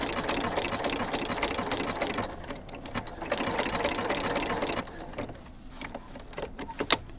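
A sewing machine stitches around the edge of a fabric potholder, its rapid mechanical whir running in steady bursts with short pauses, close and clear.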